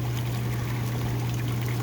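EcoSpa hot tub with its air jets switched on, a steady rushing of air and water flow over a constant low motor hum, even and close.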